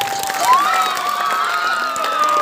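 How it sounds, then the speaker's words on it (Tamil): A loud crowd at a village stage drama performance in Tamil Nadu cheers and claps for a boy on stage, with sustained tonal whistling and shouting over dense clapping. "நிறைந்த ஒரு கைத்தட்டல் கொடுங்க."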